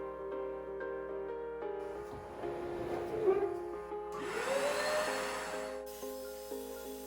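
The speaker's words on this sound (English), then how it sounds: "I made sure to go back in there with the Hoover also." A Hoover vacuum cleaner runs steadily while cleaning a couch, its motor whine swelling and dipping as the nozzle is pushed over the cushions, with a louder surge near the middle and end.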